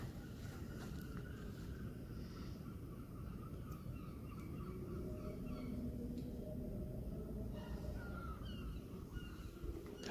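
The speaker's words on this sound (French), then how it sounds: "Avec les mouettes qu'on entend derrière." Harsh seagull calls ring out repeatedly near the La Cotinière lighthouse over steady wind and low engine or water rumble, moderately distant, with no one talking.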